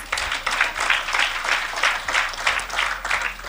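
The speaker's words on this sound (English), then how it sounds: "So as we begin, round of applause." An audience at a police town hall people's forum in Kingston and St Andrew claps in a loud, close, sustained round of applause with rhythmic swells, some people clapping in unison.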